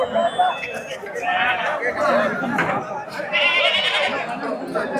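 Farm-raised sheep bleat at the Ranipettai livestock market in Tamil Nadu, with repeated nasal calls rising over a dense crowd hubbub. People talk nearby throughout.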